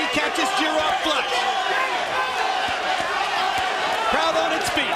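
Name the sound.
boxing crowd cheering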